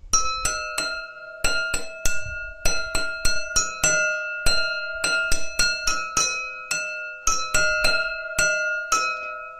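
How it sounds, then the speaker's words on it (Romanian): Glasses holding different amounts of water are struck to play a melody, with quick rhythmic runs of bright, ringing, bell-like tones of varying pitch that ring close and clear and sustain over one another, with no voices. "cu cât este paharul mai plin, cu atât sunetul este mai grav, cu cât paharul este mai puțin plin, mai gol, să spunem, sunetul va fi acut"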